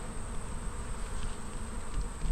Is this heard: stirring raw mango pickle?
no